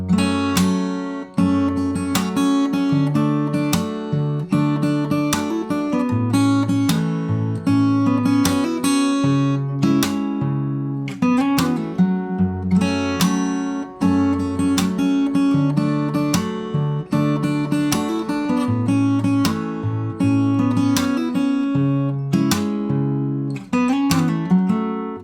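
Acoustic guitar fingerpicks the first verse of a song, a bass line under plucked chords and melody notes in a steady rhythm, close and continuous with no voice.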